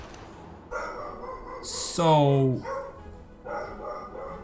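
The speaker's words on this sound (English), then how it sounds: "Sorry, that's my dog barking again." A dog barks once or twice indoors in the background, a short sharp yelp amid someone talking over game sounds.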